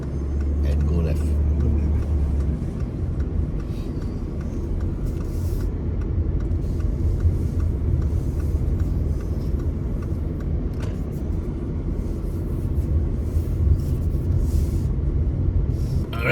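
Volkswagen Touareg driving through a gate onto a property: a steady low engine and road rumble runs throughout, with occasional clicks and faint background sounds, while people talk over it.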